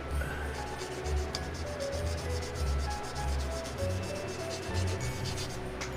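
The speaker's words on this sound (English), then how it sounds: "I'm going to do a little bit of buffing on it. Take the shine off." A fingernail buffed to take the shine off before acrylic work, a steady close scratchy rubbing with quick repeated strokes over a constant low background hum.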